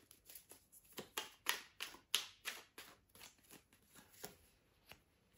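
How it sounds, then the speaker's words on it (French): Tarot cards shuffled by hand for a nine-card reading, a series of soft crisp riffling bursts in an irregular rhythm, close and fairly quiet, with no talk. "On va faire un tirage déjà avec le tarot en 9 cartes et ensuite on prendra les oracles."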